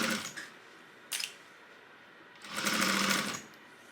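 A sewing machine stitches a crossbody bag in short bursts, with a brief run early on and a longer, louder run near the end, close and clear with no talking.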